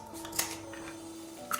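Scissors cut through craft paper in two faint, quick snips, one early and one near the end, over a quiet background hum.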